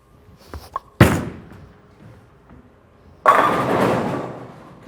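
An Ebonite Entity solid asymmetric bowling ball thrown down a lane: a sharp thud as it lands, a quiet roll, then a loud, spreading crash of pins lasting over a second, with no talking.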